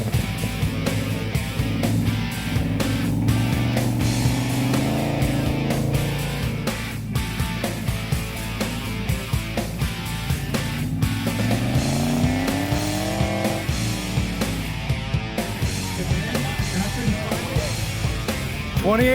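A supercharged Miata race car with an LS engine swap roars through a timed run, its engine revving up and down through gears and corners, loud and close, with occasional tire noise.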